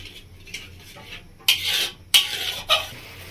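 Gentle stirring of a dish in a pan over a medium gas flame, with a few scraping, clinking strokes of a spoon against the metal, louder bursts spaced about a second apart over a low steady hum.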